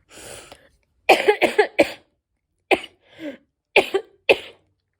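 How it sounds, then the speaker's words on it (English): A series of sharp coughs in short bursts, several clustered together, then a few more spaced apart, close and loud with silence between. "I don't know why the cough just decided to start this weekend."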